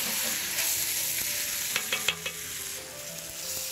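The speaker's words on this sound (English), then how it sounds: "the rabbit is ready to go. Add all this into the pan." Rabbit pieces with dry thyme hit a hot frying pan, giving a loud, dense sizzle up close, with a few brief scraping stirs partway through.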